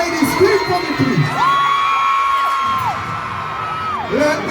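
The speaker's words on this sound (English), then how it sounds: "Can I have my ladies scream for me, please?" A dancehall concert crowd of women screams and cheers with a sustained, high, loud scream over the stage sound and other shouting voices.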